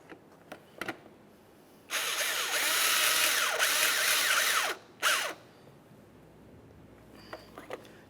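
A power drill drives the bumper cover mounting bolt on a 1994-1997 Honda Accord, a few light clicks and then a sustained close whir lasting about three seconds, followed by a short second burst.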